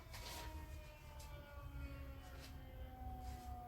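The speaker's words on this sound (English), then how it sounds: "Ambulance want to make noise all of a sudden." A distant wailing ambulance siren rising and falling over a low rumble of traffic, faint and steady throughout.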